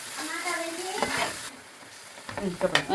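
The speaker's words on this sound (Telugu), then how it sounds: "అందులో ఫిష్ పీసులు వేసేస్తున్నాను" Fish pieces hit hot, spiced oil in a pan and sizzle steadily, with scraping and stirring noises close up throughout.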